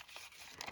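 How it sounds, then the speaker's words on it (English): A plastic gift bag crinkles and rustles as it is shuffled around during an unboxing, a short close crackling burst with a couple of sharper crinkles near the end, no talking. "This bag itself makes the most satisfying noise when you're shuffling it around."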